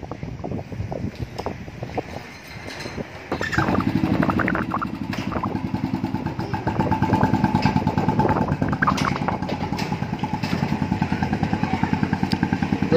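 A Bullet motorcycle engine thumps steadily up close, its rhythmic idle rising into a louder, sustained rumble as it pulls away towing a trailer.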